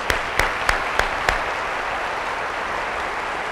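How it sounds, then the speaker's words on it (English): Staff at a school convocation applaud the board members, giving a steady wash of clapping that carries evenly from start to finish, with a few sharper claps standing out near the beginning. "So another round of applause for our board members."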